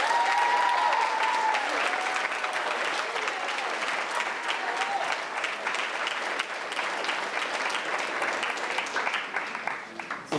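A crowd applauds at an eighth-grade school graduation, with sustained clapping and a few cheering voices near the start. The applause thins slightly toward the end.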